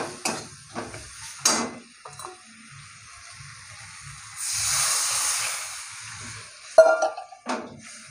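Water poured onto a sizzling spice paste for a fish egg curry sends up a loud, hissing burst of steam that lasts a couple of seconds, framed by a few clanks of a spoon against the pot.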